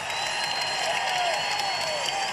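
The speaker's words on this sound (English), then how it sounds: "And this crowd loves it." Loud, sustained crowd noise filling a college basketball arena during an Idaho State versus Idaho rivalry game, a continuous roar of cheering and applause with scattered whoops rising above it.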